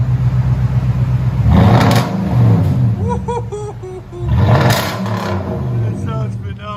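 A 2017 Toyota Tundra 5.7L V8 with a Flowmaster Super 10 true dual exhaust revs twice, each rise swelling into a deep, loud roar over a rumbling idle, while a person talks in between.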